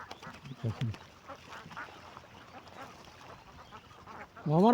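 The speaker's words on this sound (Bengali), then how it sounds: "আমার হাঁস কতগুলা, 400।" Domestic ducks from a village flock of about 400 in rural Bangladesh quack in a few short bursts, with a louder, nearer cluster of calls at the end over soft outdoor background noise.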